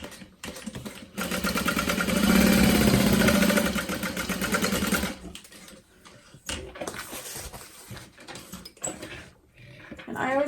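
A sewing machine stitches parallel lines on a bowler bag at a long stitch length, a loud steady whirring run of about four seconds near the start, followed by scattered handling noises and a voice.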